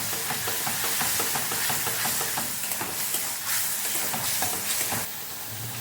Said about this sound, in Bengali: সবজিগুলো ভালোভাবে মিশিয়ে নেব।